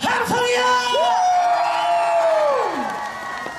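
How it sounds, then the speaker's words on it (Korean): A crowd at an outdoor public radio broadcast in Seoul's Olympic Park Peace Plaza, held for the 2018 PyeongChang Winter Paralympics, lets out loud, sustained cheering and whooping, with high drawn-out shouts rising over the noise. "큰 박수 함성이요!"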